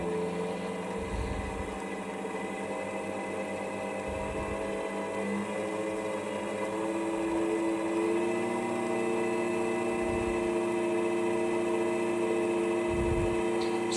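A CDI ignition test stand motor spinning a magneto rotor at higher revs, humming steadily with a sustained tonal whine and occasional low thumps throughout.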